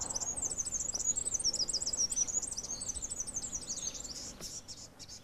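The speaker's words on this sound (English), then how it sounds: "You can hear the birds are beginning to make a noise." Small birds, including sunbirds, chatter and chirp nonstop outdoors after an alarm call, a dense high twittering chorus that stays steady then thins slightly near the end, with faint insect buzz underneath.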